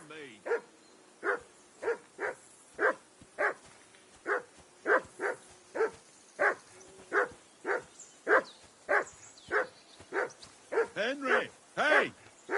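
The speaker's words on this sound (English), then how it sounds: "Call off that mutt of yours!" A dog named Mutt barks repeatedly in a steady rhythm of sharp, evenly spaced woofs at moderate distance, ending in a quicker cluster of barks and yips.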